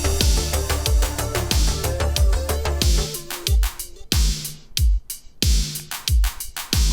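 Sequenced drum pattern played dry without non-linear reverb: punchy kicks, snares and dense hi-hat clicks in a steady groove, busy at first and thinning to sparse, clipped hits with short tails after four seconds.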